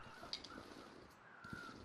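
Crows caw in The Long Dark, a quiet snowy wilderness survival game, gathered near a dead deer: a few harsh, scattered calls from mid-distance over a soft wind-like ambience, with no talking.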